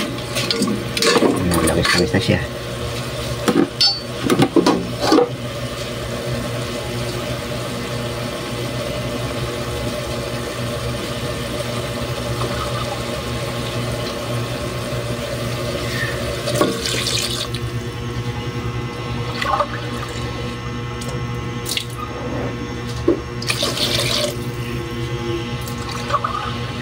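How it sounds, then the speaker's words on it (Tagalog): Water streams steadily into a pot of native chicken being cooked, a continuous close pouring hiss lasting most of the stretch, with a few knocks and a brief spoken remark over it. "Lagyan natin ng tubig."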